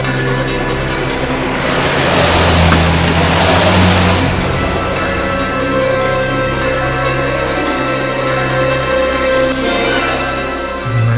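A car engine near a national park at night, a loud steady rumble and drone that swells slightly and then holds, with no voices.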